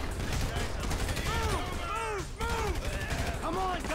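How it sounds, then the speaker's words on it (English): Gunfire in the video game GTA 5, a steady rattle of rapid shots running throughout, with sweeping tonal game effects and voices layered over the shooting. "Man, shooting feels so really good in GTA 5."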